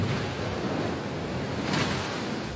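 Rushing water and crashing waves roar in a dense, continuous wash, loud and close, as part of the effects for a tsunami film.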